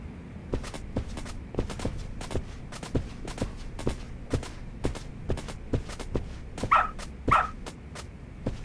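A dog in Lost Judgment gives two quick barks near the end, over a steady rhythm of footsteps walking along, with no talk.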